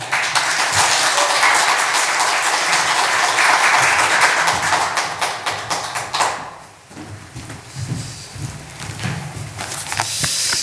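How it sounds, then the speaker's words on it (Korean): A church congregation applauds to welcome the pastor at a Korean Sunday worship service, a broad crowd of clapping for about six seconds that then thins into scattered claps and room rustle. "우리 목사님 박수로 환영해 주시면 감사하겠습니다."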